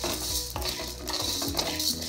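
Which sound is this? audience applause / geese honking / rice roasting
rice roasting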